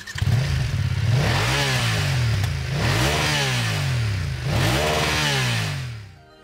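A BMW F900R 900cc motorcycle engine revs hard three times through a stacked twin exhaust, each throaty roar climbing then dropping, loud and close, before the sound cuts off.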